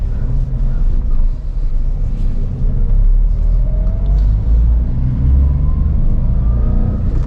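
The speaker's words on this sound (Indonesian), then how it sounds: "Di sini kita akan gunakan kecepatan sekitar 80." Manual car cruising at around 80 km/h, a steady loud low engine and road rumble with continuous tyre and wind noise throughout, no talk.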